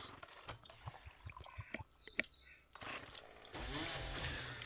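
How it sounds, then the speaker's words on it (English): A chainsaw in the zombie survival game 7 Days to Die rattles and revs in choppy mechanical bursts, then settles into a steadier grinding drone, fairly quiet, with someone talking over it. "Here's my new chainsaw."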